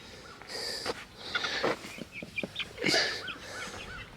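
Chickens cluck and squawk in short, uneven bursts close by, with several birds calling over one another in a quiet outdoor setting.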